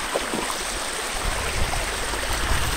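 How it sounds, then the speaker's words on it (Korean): Clear mountain stream flowing down a valley near Geumdaebong at Hambaeksan, Taebaek, a steady broadband rush of water, close and continuous with no talking. "계곡을 타고 내려오는 깨끗한 물소리를 들으면서"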